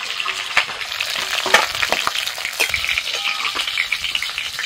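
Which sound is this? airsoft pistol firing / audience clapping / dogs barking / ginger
ginger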